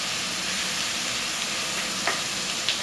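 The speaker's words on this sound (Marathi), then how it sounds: "लसूण तेलात परतवून घ्यायचं आहे छान" Garlic sautéing in hot oil in a pan for prawn masala, a dense continuous sizzle with a couple of faint utensil taps, close and fairly loud, no voices.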